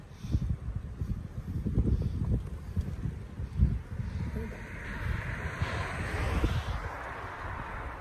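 Strong wind roars across the microphone in low rumbling gusts while cycling on a rainy day in Japan, with a broad hiss swelling toward the end.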